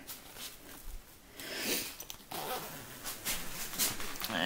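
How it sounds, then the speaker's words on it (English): A cat tent's zipper rasps open in a few short, scratchy pulls close to the microphone, with soft rustling of fabric between strokes and no voices. "So the zipper's here."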